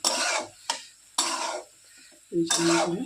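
Spoon scraping through a Bengali-style cabbage curry cooked without onion or garlic in a kadai, the pan off the heat, giving several close, loud bursts of stirring with short pauses between them.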